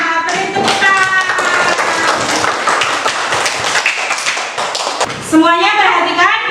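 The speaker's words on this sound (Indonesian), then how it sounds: "Nah, beri tepuk tangan" Children in a primary school classroom clap in a dense, brisk burst of close handclaps, mixed with overlapping young voices and a brief rise of chatter near the end.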